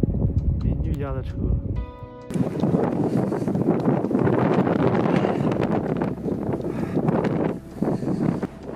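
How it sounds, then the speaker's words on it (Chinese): Strong wind in a heavy snowstorm roars in broad, buffeting gusts against the microphone, surging and easing over several seconds. "这次的大雪伴随着大风，外面的世界真的是已经白到模糊了"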